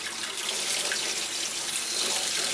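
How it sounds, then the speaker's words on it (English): Warm water runs from a tap into a sink, a steady close splashing hiss that stays constant and alone. "I'm going to put some water in here in the sink. It's going to be warm water."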